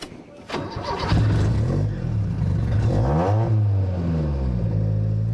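A 1.8 litre supercharged, fuel-injected twin cam engine venting through a Supertrap muffler, loud and close, catching and then rising into a revving growl with a clear pitch sweep before it settles at a steady, throaty hum.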